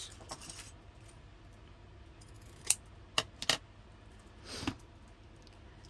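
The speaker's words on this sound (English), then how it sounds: "Scissors." A few quiet, sharp snips of scissors cutting, scattered and close, with soft rustling between them.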